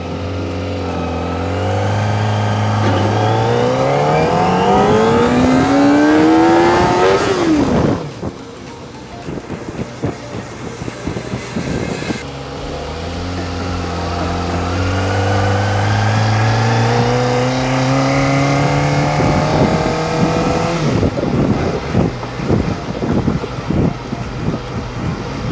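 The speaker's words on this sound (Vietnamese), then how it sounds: "mình nghe muốn các bạn nghe cái tiếng hầm hố của cái xe bốn máy này thôi" Kawasaki ZX25R four-cylinder motorcycle engine revving loudly, pitch climbing in a long rising scream, dropping off, then building again in a second sustained rev with strong wind noise throughout.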